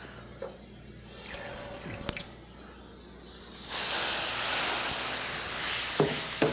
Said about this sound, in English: I may add just a drop of water or two to this